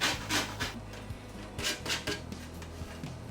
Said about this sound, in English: take a box grater and just grate the zest